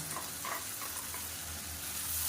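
Ground tomato sautéing with onions in a hot pan for an egg pepper masala, a steady close sizzle with faint stirring scrapes throughout and no voices.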